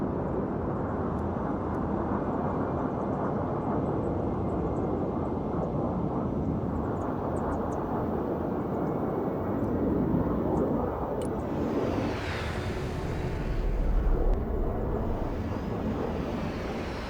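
Jet aircraft engine roar swelling as a close air support plane flies in to attack enemy ground units in the Broken Arrow war game, a steady loud rumble with a rising whoosh passing overhead.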